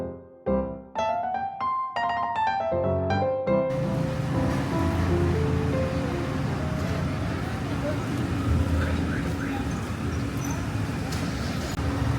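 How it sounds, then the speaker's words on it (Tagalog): Sea waves at El Nido wash in as a steady, broad surf roar that comes up after a few seconds of music and keeps going, with faint traffic sounds underneath. "Itunog pa ng dagat."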